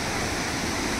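Steady broadband rush of falling water at Banjhakri Falls in Gangtok, Sikkim, a dense continuous roar filling the whole second without pause or voices.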